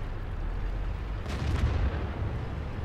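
A tank cannon, fired from a T-54 at a Bat Chat in World of Tanks, gives a single deep booming report that rises briefly over a constant low engine rumble.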